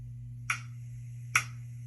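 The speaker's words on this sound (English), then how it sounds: "You can hear 2 clicks and then we'll say intro." Two crisp clicks about 0.85 seconds apart, standing out over a steady low electrical hum.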